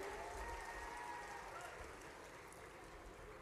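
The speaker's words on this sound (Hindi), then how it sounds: "अभिनंदन करें गजेंद्र सिंह जी का जोरदार तालियां बजा करके।" Crowd applause at a public government development-works inauguration event in Khargone, a dense steady wash of clapping with crowd noise and faint voices mixed in.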